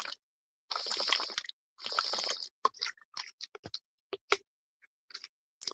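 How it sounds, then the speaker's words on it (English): Someone drinks from a water bottle close by: bursts of gulping and sloshing, then a scattered run of clicks, sips and small liquid pops amid silence, with no speech. "I'm gonna drink my water, guys. It's gonna make some weird noise, okay?"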